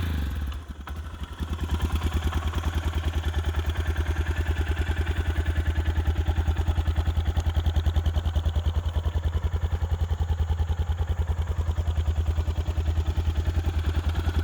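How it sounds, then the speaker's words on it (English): A Suzuki DR650 motorcycle engine starts after a brief crank, then settles into a steady, loud, even idle with a regular thumping pulse, heard close up and alone. "might as well fire it up just so you can kind of hear how it sounds"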